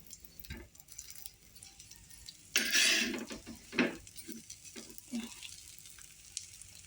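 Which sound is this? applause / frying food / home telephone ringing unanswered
frying food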